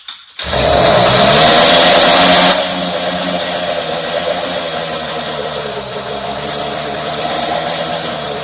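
A 49cc four-stroke motorized bicycle engine starts abruptly and runs loud and close with a buzzing drone. It revs high for about two seconds, then settles into a steady, slightly lower idle that continues to the end, with no talk.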